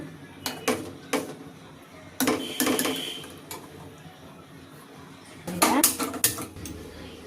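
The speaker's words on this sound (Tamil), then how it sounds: "ஸ்டவ்வில் வச்சு நல்லா மிக்ஸ் பண்ணிகிட்டே இருங்க, அடி பிடிக்காத அளவுக்கு." Sweet pongal (chakkara pongal), koil style, being stirred in a pot on a stove, with a spoon scraping and clinking against the metal in several short bursts over a quiet background.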